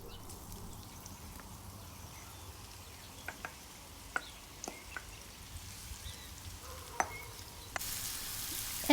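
Leek rings frying in six tablespoons of olive oil over high heat in a deep pan: a quiet, steady sizzle with occasional soft pops and crackles, and a brief clatter near the end.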